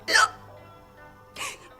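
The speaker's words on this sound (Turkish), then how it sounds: "Şarkı arasında hıçkırılmaz." Two abrupt, breathy hiccups interrupt a sung Turkish song in a comedy sketch, the first loud and close, the second quieter after a short pause, with faint room tone between.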